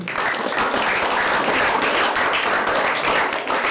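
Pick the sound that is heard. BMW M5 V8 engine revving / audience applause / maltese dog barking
audience applause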